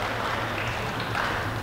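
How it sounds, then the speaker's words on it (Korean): A church congregation claps together to welcome returning guests, a steady continuous wash of applause filling the hall at even loudness from start to finish. "우리 서로 마주보고 박수로 환영하겠습니다"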